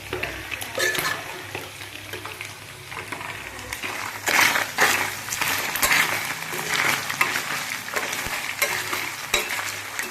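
Raw prawns cooking with gongura leaves in a pan give a close, continuous sizzle, with scraping and clinking stir strokes that grow louder midway and keep going to the end.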